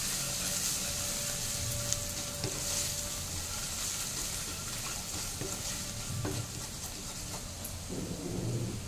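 Spices and grated ginger fry in a pan with a dense, continuous sizzle, and a few brief stirring scrapes sound up close. There is no speech.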